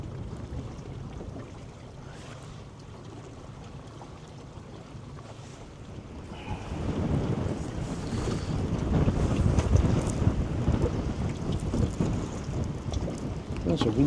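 Night wind by a river during fly fishing rumbles against the microphone, moderate at first and then building into a louder, sustained blustery roar for the second half.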